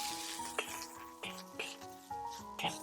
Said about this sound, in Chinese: 接下来我们将墨鱼炒香一下，锅里面加入10克的食用油，然后下入姜片和墨鱼